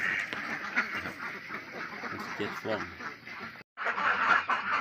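Ducks quack steadily at a farm during morning egg collection, their calls running under a voice counting, with a brief pause near the end before the quacking resumes.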